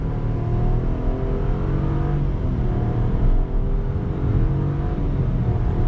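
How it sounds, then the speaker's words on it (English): A 2020 Buick Encore GX small SUV accelerating on throttle, its engine note rising smoothly and steadily from inside the cabin, a continuous loud hum with no one talking. "Let's see acceleration on throttle."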